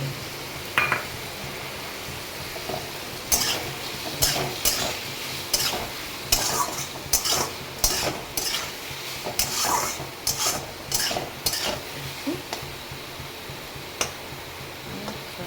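Mustard paste and fish stirred in a sizzling cooking pan, with a low frying hiss beneath a run of close, rhythmic scraping and clicking spoon strokes.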